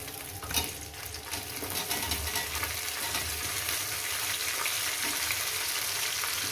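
Cauliflower fries in a pan with a steady, close sizzle and bubbling hiss that holds at an even level throughout, with a faint stir near the start.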